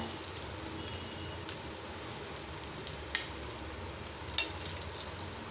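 Paneer tikka pieces fry in a hot pan with a steady, close sizzle and soft crackle. A few faint clinks and spatters break through, and no one speaks.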